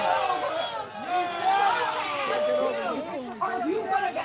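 Large political rally crowd chattering, a steady babble of many voices at moderate distance with a clearer voice rising above the hubbub.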